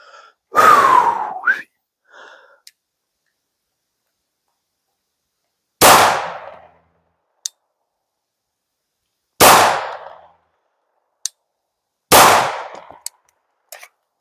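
Four 9mm pistol shots fired at a target outdoors, sharp and loud with short reverberant tails, spaced a few seconds apart with silence between, plus a faint breath or gasp at the start.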